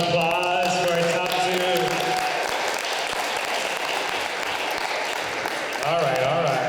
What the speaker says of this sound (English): Let's give a round of applause for our top